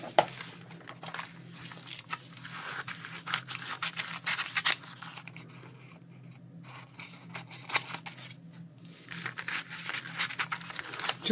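Scissors snip through gel-plate printed paper beside a bone-folded journal page, a run of crisp close cuts and rustles with brief pauses between strokes.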